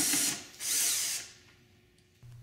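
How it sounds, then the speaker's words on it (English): A power drill backing out screws from the trunk latch hooks of a motorcycle luggage rack, two close whirring bursts of spinning followed by quieter mechanical clicks and hum. "We need to remove the 4 screws that hold the 2 trunk latch hooks in"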